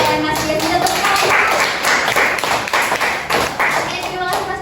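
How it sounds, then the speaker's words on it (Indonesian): A classroom bursts into applause after a student finishes reading his short story, with many hands clapping densely and steadily for several seconds, close and fairly loud. "Kita tepuk tangan."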